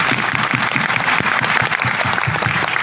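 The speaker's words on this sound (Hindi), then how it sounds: "मैं चाहूंगी एक बार जोरदार तालियां मुझे देकर।" A crowd at a Modicare motivational session breaks into loud, sustained applause, a thick continuous roar of clapping hands that stays steady throughout.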